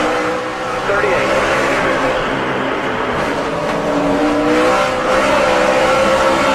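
NASCAR race cars roaring around the track as cars spin out nearby, a dense, loud engine drone with rising and falling pitch, tire noise woven in, and a radio voice talking over it.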